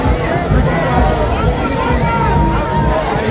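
A crowd of supporters walking alongside Liberia's President Weah toward the stadium, a dense, loud babble of many voices close by with continuous crowd noise.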